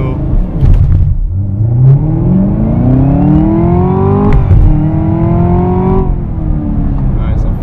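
A 2017 Camaro ZL1 with manual gearbox launches hard from a standstill toward 60 mph, its engine note sweeping up through several loud rising gear pulls with brief drops at each shift, close and continuous.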